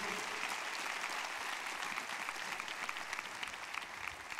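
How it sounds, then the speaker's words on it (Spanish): A church congregation breaks into loud, sustained applause in praise of God, a dense even wash of many hands clapping with faint crowd murmur underneath. "¿Por qué no le da un aplauso fuerte a Él?"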